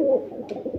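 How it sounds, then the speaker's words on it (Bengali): A Rampuri male and a Teddy female pigeon make a low cooing murmur, close and steady, with no talk over it, over a brief sound of under a second. "রামপুরি ফ্যাটের নর আর টেডি মাদি কবুতর"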